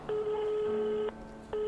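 A telephone line tone sounds as a steady electronic beep, held for about a second, pausing briefly, then starting again, clear and alone with no talking.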